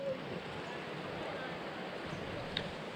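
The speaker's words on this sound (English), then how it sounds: "There's a nice little waterfall on that side over there." A small waterfall at Scarp Pool rushes steadily at a distance, a continuous even wash of water noise with no distinct splashes.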